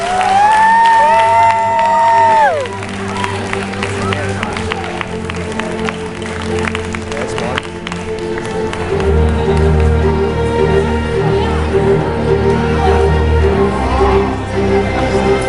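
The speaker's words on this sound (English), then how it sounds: "Big round of applause." Crowd at a convention prize-giving cheers, whoops and claps for a third-place winner, loud and lively over a steady musical tone that fades after a few seconds, with shouting voices mixed in.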